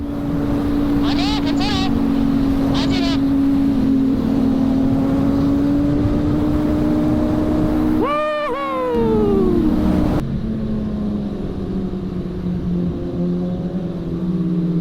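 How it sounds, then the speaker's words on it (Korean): Sport motorcycle exhaust running close by, a steady droning engine note that sweeps sharply in pitch as the throttle is blipped midway, then settles back to a lower, steady idle. "당신 바이크 배기음이 어? 오랜만에 타줘서 그런가 쾅 그러는데"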